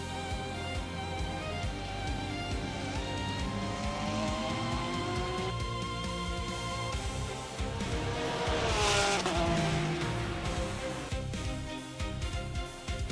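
A GT3 race car laps the Summit Point circuit, its engine note rising and falling through gear changes with tire squeal in the corners, heard from onboard with no talk.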